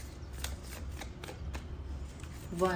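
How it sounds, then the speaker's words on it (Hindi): Playing cards shuffled and drawn one by one, a run of quick papery riffles and soft flicks up close, with a faint voice at the very end. "let's take more cards."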